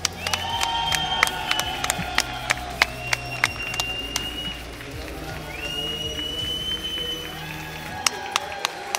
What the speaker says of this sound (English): Another round of applause for our Tekken 8 top 8. Let's make some noise.